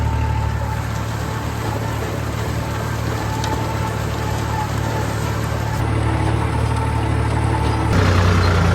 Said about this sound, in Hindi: अपन रोटावेटर पे आ गए थे और रोटावेटर ही चला रहे हैं